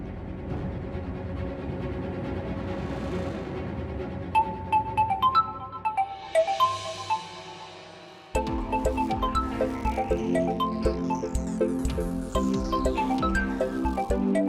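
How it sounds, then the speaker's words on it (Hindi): A musical phone ringtone plays a looping melody, changing pattern partway through, fairly loud and with no talking. "इतनी रात को किसका फोन आ रहा है?"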